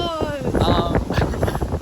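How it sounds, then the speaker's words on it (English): Gusty night wind by a path on the Big Island of Hawaii buffets the microphone in a steady roar, with people talking nearby underneath it. "It's very windy by the path."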